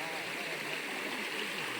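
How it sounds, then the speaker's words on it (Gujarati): Water runs through a small irrigation channel on a farm, a steady broadband rush and gurgle that continues without a break at moderate level and fairly close. "જો આ અમારા પાણી અહીં વહેતું થઈ ગયું છે, આને આમ નાળિયો કહે છે."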